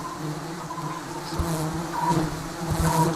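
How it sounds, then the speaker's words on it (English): Many Asian honeybees buzz in a steady, dense drone close by in Sri Lanka, the hum swelling slightly in places, with no voices. "Bees get disorientated with smoke."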